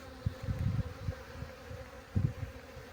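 Honeybees buzz faintly and steadily close by at water, with soft pulsing drones rising and falling against a quiet outdoor background.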